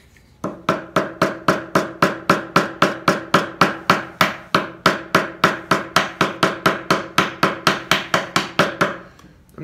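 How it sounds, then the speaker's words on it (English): A wooden mallet strikes a chisel cutting dovetails in maple, roughly two dozen crisp, evenly spaced blows in a steady rhythm, loud and close with no voices. "I'm just going to play it by ear and see if it'll take any malleting"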